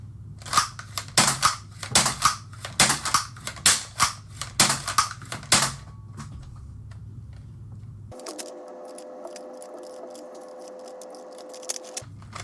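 A modded Nerf Strong Arm revolver blaster fires a rapid run of about a dozen sharp snapping shots with mechanical clicks, then goes quiet apart from a faint hum and a few small ticks.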